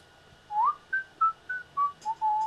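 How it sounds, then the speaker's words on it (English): A tuneful whistled melody of about seven short rising and gliding notes, the bear Baloo whistling in a movie trailer, clear and fairly close, over quiet background hiss. "at the end of the teaser trailer, you hear Baloo whistling"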